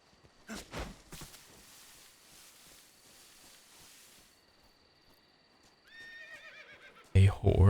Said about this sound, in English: A horse, okay.